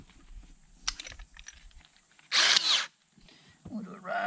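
Drill bores a rounded starter hole in plastic, sized for a jigsaw blade during a navigation light install; one loud, harsh burst of about half a second stands out amid quieter handling clatter.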